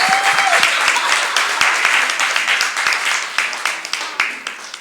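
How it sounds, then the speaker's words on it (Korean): Church congregation applauding during a pastor's sermon, full loud clapping that gradually thins out into more distinct individual claps. "좀 박수 좀 쳐봐요"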